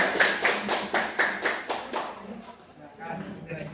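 Classroom applause: a quick run of about eight rhythmic claps, then it fades and voices murmur in the room.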